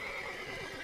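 A horse neighs in the video game The Witcher 3, one brief loud whinny filling a short moment with no talking.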